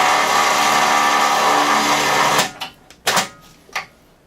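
A Quadboss 5000 lb winch mounted on a Turbo RZR whirs steadily as it pulls in, a loud continuous motor drone that cuts off abruptly, followed by a few sharp clunks and clicks.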